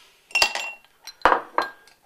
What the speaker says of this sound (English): I'm going to add a couple of ice cubes.